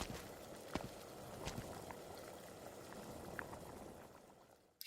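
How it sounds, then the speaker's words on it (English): A pot of soup boils on a stove in a kitchen scene from the game Arknights, with a steady bubbling simmer broken by a few sharper pops and gurgles, fairly close and alone throughout. "The only presence is a pot of soup boiling on the stove."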